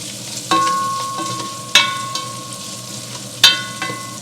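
Crispy pancetta sautés in a pan with five cloves and a two-inch cinnamon stick, a soft sizzle punctuated by a few sharp metallic clinks and scrapes of a spoon against the pan.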